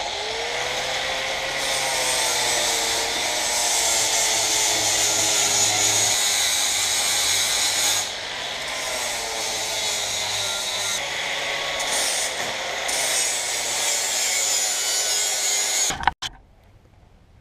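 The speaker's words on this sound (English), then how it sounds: "It's a flapper disc with 36 grit." An angle grinder fitted with a coarse 36-grit flap disc grinds steadily into wood for about sixteen seconds, a loud continuous whine with shifting pitch and rasping texture, before it stops abruptly and falls quiet.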